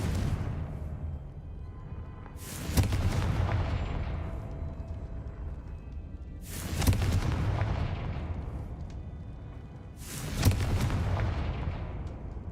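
The Confringo fire-blast spell from Hogwarts Legacy goes off three times at even intervals. Each blast is a loud, booming explosion whose rumble tails off slowly.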